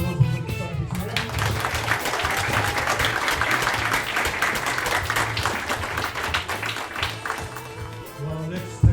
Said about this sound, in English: Big round of applause for the start this morning.